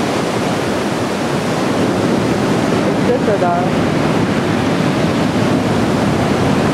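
Rough sea waves crash over a pier in Sochi in a steady, loud roar of surf and spray, with wind noise and a short exclamation from a person nearby.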